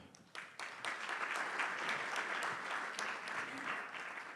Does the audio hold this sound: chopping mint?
no